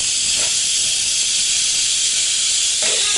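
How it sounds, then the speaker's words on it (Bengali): Potatoes boil in a pot on the stove, heard as an even, loud hiss of steam that holds steady from start to finish with no voices. "আর এই যে আলু সিদ্ধ হচ্ছে"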